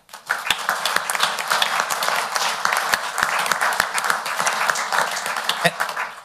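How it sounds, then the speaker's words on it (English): An audience at a county council meeting applauds newly elected and re-elected officials, a moderate, uneven patter of clapping with a few sharp, distinct claps standing out, continuing for several seconds. "Let's give them a round of applause for their re-election or election."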